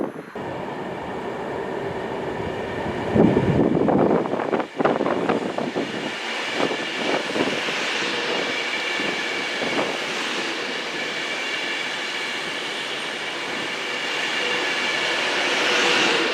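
Trains on the platform at Warrington Bank Quay station, with a steady rumble of rolling stock, metallic wheel clicks and a brief squeal near the start, all fairly loud and close without speech.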